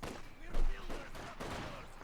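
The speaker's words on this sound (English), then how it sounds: "He's being shot to bits by the Grenadier" Gunfire from Company of Heroes 2, a Wehrmacht Grenadier squad shooting at Soviet troops, bursts of rifle and machine-gun fire overlapping in a busy battle mix with one heavier thump near the middle.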